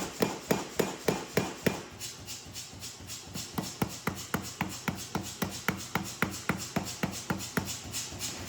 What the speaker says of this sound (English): We continue to hammer the bar, refining the straightness